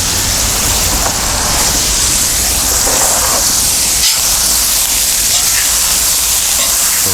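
Onions sizzling on a BlackStone flat-top griddle for cheesesteak, a loud, steady hiss of frying filling the whole stretch without pause.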